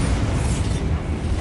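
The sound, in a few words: Bombarda spell explosion in a Harry Potter video game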